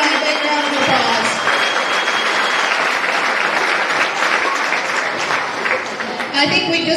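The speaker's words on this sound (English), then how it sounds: "Let's give all of our women a big round of applause." Loud, sustained applause from the crowd at a county fair swine show, a thick wash of clapping lasting several seconds before briefly easing.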